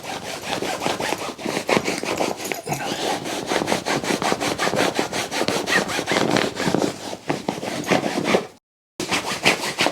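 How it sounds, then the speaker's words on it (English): A cloth rubs cleaner into a mouldy guitar case in quick, steady back-and-forth strokes, close and continuous, with a brief pause near the end and no talking. "So you take the cloth, clean part of it, you start rubbing it in."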